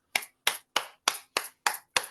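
Seven evenly spaced sharp claps, about one every 0.3 seconds, from a single participant at an online book launch party; close and clear with no talk and no crowd applause behind them.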